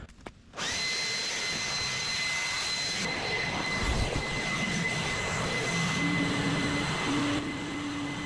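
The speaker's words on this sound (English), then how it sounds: "use our Bluetooth blower right here" A Bluetooth blower clearing insulation off a wall starts up after a brief quiet moment, then holds a loud, steady whooshing roar with a whining tone, close to the listener and unbroken for several seconds.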